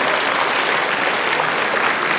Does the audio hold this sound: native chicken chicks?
no